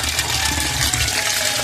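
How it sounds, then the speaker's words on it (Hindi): Cold water poured into drained cooked pasta, a dense, steady gushing rush of water heard close, with no voices. "अब हम इसमें ठंडा पानी डालेंगे।"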